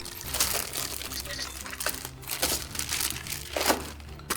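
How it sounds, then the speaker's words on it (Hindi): Cardboard and plastic packaging from an ASUS V470 all-in-one PC box crinkles and rustles in bursts during unboxing, fairly close, with a few sharper crackles and a voice now and then. "बॉक्स में और क्या है खोल के दिखा देते हैं फटाफट से"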